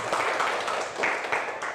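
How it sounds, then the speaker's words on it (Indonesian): A group applauds on cue at an Indonesian teachers' coaching session, a dense, steady burst of clapping lasting a couple of seconds without pause. "Oke, tepuk tangan kita semua."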